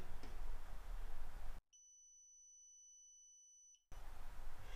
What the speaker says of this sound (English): That beautiful annoying beep.